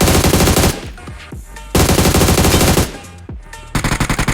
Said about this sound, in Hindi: दूर से भी पोट्टे गोली चला रहे